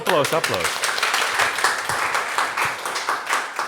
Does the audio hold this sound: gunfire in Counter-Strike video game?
no